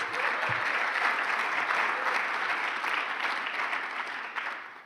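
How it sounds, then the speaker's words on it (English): A round of applause for the sponsors and partners at a Chamber of Commerce breakfast event on education in Maine. The clapping from a sizable room stays steady and even throughout, with no talk over it. "So please, a round of applause for our generous sponsors and partners."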